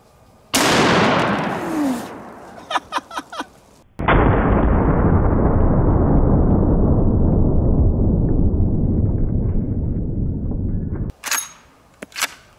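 A single massive blast from a .700 Nitro Express elephant rifle strikes a zombie torso target outdoors, loud and close, followed by a long rumbling echo that rolls away for several seconds before a few faint clatters.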